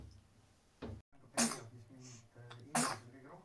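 Two sharp sneezes burst out close by, separated by about a second, with soft breathing and a brief murmur of voice around them.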